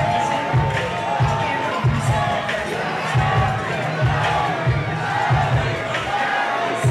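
Loud arena crowd at NFC 103 cheers and shouts after a super heavyweight first-round knockout, a continuous roar with repeated low thuds and scattered yells throughout.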